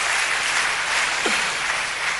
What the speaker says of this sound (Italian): Grazie per l'applauso di incoraggiamento